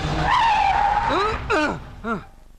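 A car skidding to a sudden stop in a comedy scene, with a long loud tire squeal that rises and wavers, followed by two shorter screeching bursts as it halts, close and prominent.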